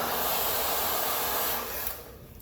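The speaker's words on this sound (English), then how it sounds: "I'm going to grab my blow dryer." A handheld blow dryer roars steadily over an acrylic paint pour for a bloom technique, a close, loud, hissing airflow that cuts off near the end.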